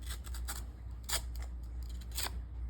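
A freshly sharpened blade slices through an index card, producing a few short, crisp scraping cuts in quick succession, close and fairly quiet with no talk.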